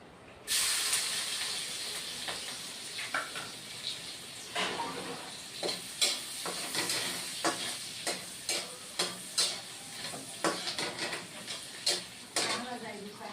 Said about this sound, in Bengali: এখন বন্ধুরা পেঁয়াজ ফোড়ন দিব অল্প পেঁয়াজ ফোড়ন